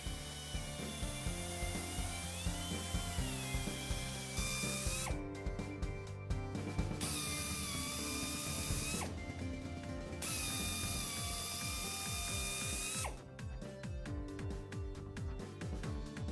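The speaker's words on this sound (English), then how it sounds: "Proper drilling with the appropriate size carbide cutter ensures complete damage removal while preventing future injury growth." A carbide cutter drills through an injury in a radial truck tire, a dense, loud mechanical grinding and ratcheting whir that runs continuously with abrupt shifts in tone as the tool works the rubber and steel.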